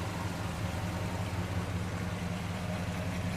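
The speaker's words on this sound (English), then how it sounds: "car sitting here in drive, idling, nice and steady and smooth" Steady, smooth idle from a 1969 Pontiac LeMans engine in good condition, sitting in drive after a drive, a low even rumble that holds constant throughout with no other sounds.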